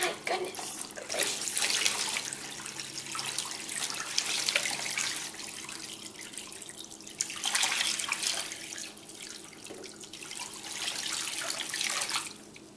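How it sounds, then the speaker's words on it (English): Water pours and splashes into a dish during a home oxidation and reduction experiment, a close rushing stream that swells and eases in several waves over about twelve seconds. "Then, going to take your water and pour it in about halfway in your dish."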